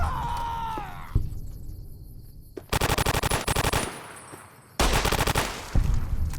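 Automatic gunfire in the video game Fallout comes in two loud, rapid bursts with a short pause between them, after an earlier shorter shot and a brief quiet gap.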